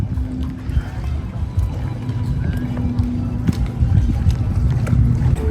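A large boat on Lake Minnetonka gives off a steady low rumble, close and loud, mixed with wind buffeting the microphone while people talk.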